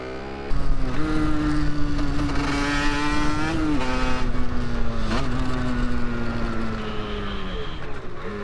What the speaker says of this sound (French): Regardez, la moto elle avance toute seule.